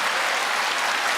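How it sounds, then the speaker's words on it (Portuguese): A church congregation at a family conference claps together in a dense, steady burst of applause, loud and close, with no voices on top. "Vamos aplaudir de verdade nosso Senhor."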